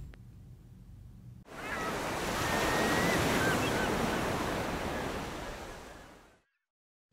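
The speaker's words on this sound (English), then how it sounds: "Tsunami, a killer wave, speeding across the ocean at 400 miles an hour." Heavy ocean surf rushes and crashes in a broad, loud roar that swells for several seconds and then drops away abruptly, following a quieter stretch of wind noise.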